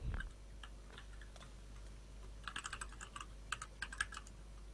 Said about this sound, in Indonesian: Kok ngetik Azam?